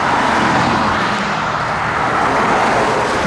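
2021 Chevy Silverado RST 1500 Z71 with the 3.0L Duramax diesel towing a 7500 lb trailer on a mountain road, a loud steady drone of engine and road noise throughout.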